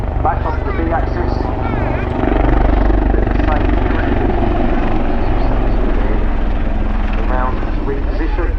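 At the 2024 RAF Cosford Airshow, a military helicopter flying display produces a loud, steady rotor and engine roar that continues throughout while a commentator talks over it.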